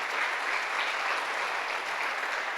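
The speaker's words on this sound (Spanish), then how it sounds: "Dele una ofrenda de aplausos a nuestro Rey, Señor y Dios y Salvador eterno" Congregation at a Spanish-language church service applauding steadily, a dense, sustained wash of many hands clapping at a roughly even level throughout, with no talk over it.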